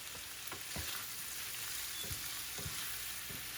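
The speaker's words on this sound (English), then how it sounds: "It is no longer frying the chicken" Soft, steady sizzling of chicken frying in a pan, with occasional light taps and scrapes, fairly quiet and close.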